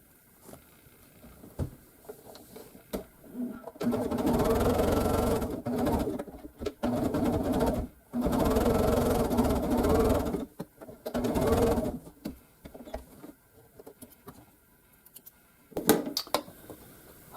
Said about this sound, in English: and then I'll sew these together